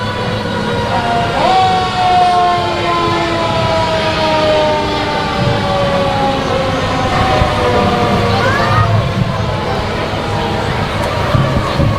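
A fire department truck's siren wails in long rising and falling sweeps at a Halloween parade, loud and sustained over a rumbling engine and crowd background, with a speaker talking over it.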